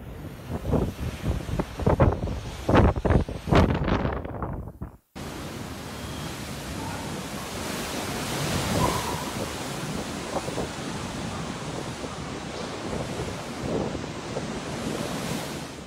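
Typhoon Trami hits southern Japan with strong winds and heavy surf: a steady, roaring wash of wind and breaking waves fills most of the clip, preceded by a few seconds of louder, busier sound that cuts off abruptly.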